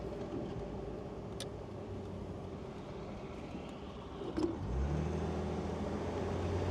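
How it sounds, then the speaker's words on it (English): A BMW M57 diesel engine with ZF 8HP gearbox hums steadily, then revs up with a rising roar and a faint turbo whistle from the intake, close and continuous. "Got some good turbo noises as well from this intake."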